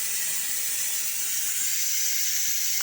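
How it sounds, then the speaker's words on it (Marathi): A loud, shrill steam hiss from a pressure cooker whistle cooking rasam rice blows continuously at a constant level, close by, with no pauses. "कुकर लावून टाका. त्याची ना एकच शिट्टी घ्यायची आपल्याला"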